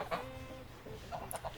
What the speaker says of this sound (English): Oh, hi, geese.